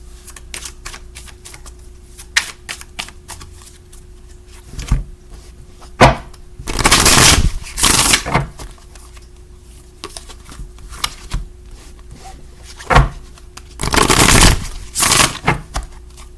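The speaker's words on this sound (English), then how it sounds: "And these I'm just gonna cut and pull 4 from the top." Tarot cards are cut and drawn from a deck, giving soft papery flicks and taps with two longer riffling shuffle bursts, close and fairly quiet, with no talking.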